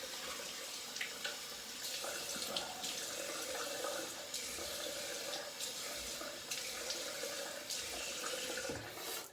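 Tap water runs steadily into a sink while shaving soap is rinsed off, a constant close hiss and splash that fills the whole stretch with no talk.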